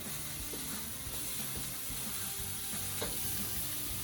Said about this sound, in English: we're going to flip over the Taylor ham